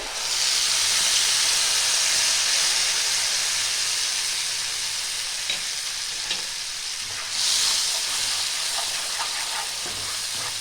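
Mustard and cumin paste with black cumin sizzles steadily in hot oil for a Bengali mustard fish curry, a loud, dense frying hiss that flares briefly partway through with faint stirring clicks.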